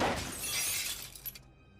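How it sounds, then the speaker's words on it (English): Back window of a car shatters in a parking lot, a loud burst of breaking glass with crackling fragments that fades out after about a second and a half. "suddenly there was the sound of the back window glass breaking"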